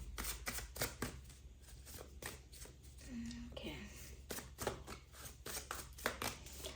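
Tarot cards are shuffled by hand in a rapid run of crisp, close riffling taps with short pauses between bursts, quiet and continuous, with a faint voice underneath.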